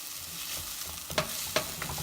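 Tamarind water is poured into a hot sizzling pan while cooking a village-style fish curry, with a steady frying hiss and a couple of sharp splashy bursts as the liquid hits the oil.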